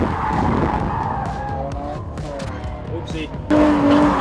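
A Nissan Z drifting on a track, tires skidding and squealing continuously under a droning engine, with a sharp louder burst near the end; a voice speaks briefly over the noise.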